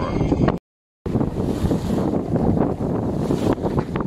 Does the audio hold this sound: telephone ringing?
no